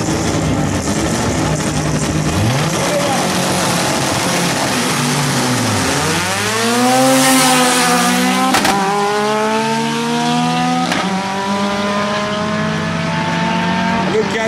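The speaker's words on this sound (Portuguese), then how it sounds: "Acelera esse gol, meu." A turbocharged Volkswagen Gol race car accelerates on a track at a racha event in Guaporé, RS. Its loud engine climbs through several rising revs with gear-change drops, and a voice shouts faintly under the roar.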